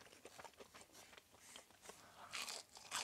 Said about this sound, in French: Vous entendez comment ça croustille?